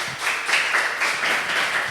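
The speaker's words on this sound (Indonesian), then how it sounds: "Tepuk tangan untuk kita semuanya." A crowd claps and applauds at a live inspirational talk event, a dense, steady patter of many hands held for about two seconds with a slightly rhythmic swell.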